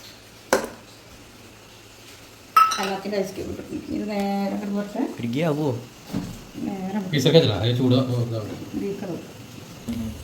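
A sharp clink, then a louder clatter of ice cubes dropping into a glass, followed by talking with more light clinks underneath.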